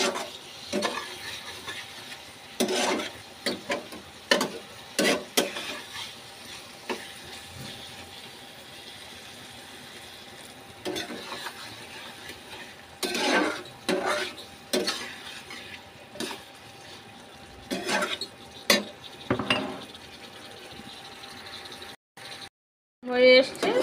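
A pan of mushroom and egg curry is slowly sautéed, with a faint steady sizzle broken by repeated scrapes and clinks of a spoon against the metal, and occasional quiet talk in between.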